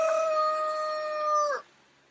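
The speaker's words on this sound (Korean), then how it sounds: "닭은 새벽에만 우는 게 아니더라고요." A rooster crows inside a backyard chicken coop in the evening: one long, sustained, tonal call held steady at close range. It ends abruptly, leaving near-silence.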